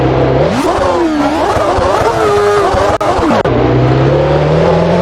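A 2009 Formula 1 car in a racing simulator, its engine revving up sharply, holding a loud high-pitched whine through gear changes, then dropping back to a steady idle drone.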